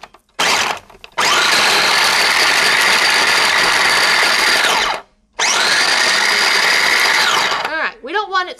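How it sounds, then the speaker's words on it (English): A small electric blender chopping mint candies whirs loudly in two long bursts separated by a brief pause, its motor pitch steady and rising slightly before stopping. "put them over here in my little blender. So we need to mix those up and shred them"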